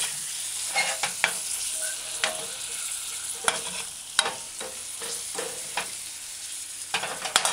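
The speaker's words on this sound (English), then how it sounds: "you use a cooking spoon and stir in and coat all your scallops, curry powder, thoroughly" Scallops being stirred and coated in curry powder with a cooking spoon in a hot pan for a scallop curry stew, with scraping strokes at an irregular rhythm over a steady sizzle, close and clear, with no talking.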